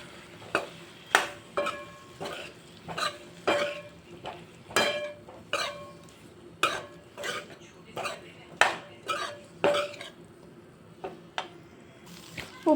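A utensil stirs boiled potato pieces into dry potato sabzi in a metal pan, clanking and scraping against the pan in a steady series of sharp knocks about once a second, close and clear.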